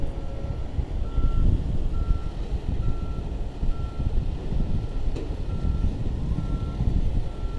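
A truck at the SpaceX launch site in Boca Chica, Texas gives out evenly spaced reversing beeps over a steady outdoor rumble of wind and engine noise.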